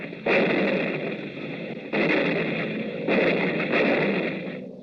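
Artillery-style gunfire sound effects in a wartime radio drama, three heavy booming blasts with rumbling decay, loud and alone without talk.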